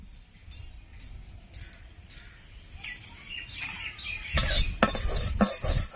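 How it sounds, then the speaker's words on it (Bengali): Coriander seeds, dried chillies, crushed cardamom, cumin and whole garam masala dry-roast in a wok with no oil, quiet stirring scrapes and clinks that grow into louder rattling and scraping near the end, with birds chirping faintly nearby. "ধনে আর শুকনো লঙ্কাটা ভেজে নেব"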